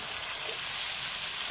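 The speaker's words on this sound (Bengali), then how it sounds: "হ্যাঁ, দেখো হালকা করে ভেজে নিচ্ছি।" Paneer pieces fry lightly in a little oil, giving a steady close hiss of sizzling that holds evenly for the short moment with no voices.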